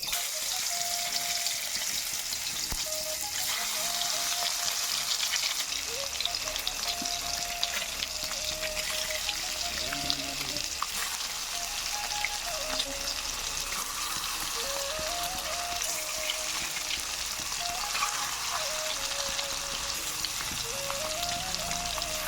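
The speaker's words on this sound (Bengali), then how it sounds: "তেল তেলটাও আসলে গরম হয়ে গেছে এখন সাবধানতার সহিত আমি ডিমগুলো এক করে সবগুলো ভাজা করে নিচ্ছি" Eggs frying in hot oil in a wok, a dense continuous sizzle and crackle that stays even throughout, with faint tonal chirps in the background and no talk.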